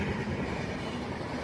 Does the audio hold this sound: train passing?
yes